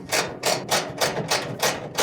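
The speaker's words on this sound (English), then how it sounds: "undo these Phillips screws with a small ratchet" A small ratchet undoes Phillips screws on a GE dryer, giving a sharp, close series of about eight evenly spaced clicking strokes in quick rhythm.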